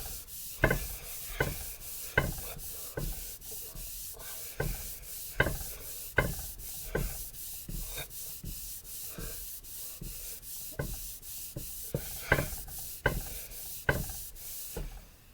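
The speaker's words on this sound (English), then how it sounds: "now we're going to go through our 3000 grit polishing pad. in order to get rid of the streaks that the sandpaper had left." Rhythmic rubbing as a 3000 grit polishing pad is worked over the head of a 1926 DL&W rail, with quick regular strokes and soft knocks at each turn, fairly quiet and close, with no voices.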